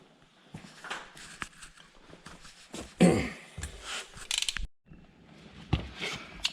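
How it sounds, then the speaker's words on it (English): Hand crimping tool ratcheting while crimping plumbing fittings outdoors during a bathroom sink install, a run of close mechanical clicks and ratchet snaps with louder bursts around the middle and a short pause. "we're going to go ahead and do some crimping out here"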